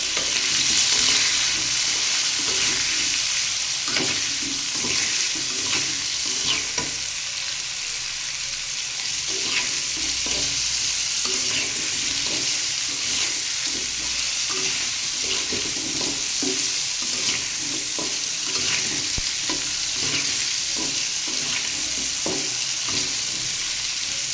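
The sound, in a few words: stirring bottle gourd with turmeric in a pan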